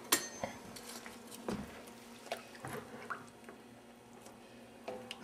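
Calamari stuffing is stirred in a bowl, giving faint scattered wet clicks and soft squelches at an uneven pace, quiet and close.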